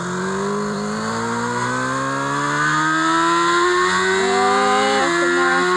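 A motorcycle engine in a video game, resembling a Yamaha, revving continuously with a loud, steady whine that climbs in pitch and steps up through several surges, with no voices.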